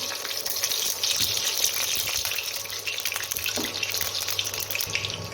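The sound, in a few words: oil poured into a hot pan for tempering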